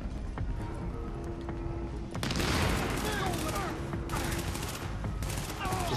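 Dense bursts of gunfire from the video game Tom Clancy's The Division, a loud continuous fusillade that intensifies after the first couple of seconds, with a player's voice faintly mixed underneath.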